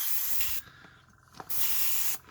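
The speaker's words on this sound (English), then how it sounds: "Look at that with the airbrush." An airbrush sprays paint onto a Gaslands model car in two close, loud hissing bursts separated by a short quiet gap, with a third burst starting at the very end.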